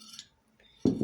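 A utensil scraping and clinking against a non-stick pan while mixing cooked banana, with a faint tap followed by a louder burst of close scraping near the end.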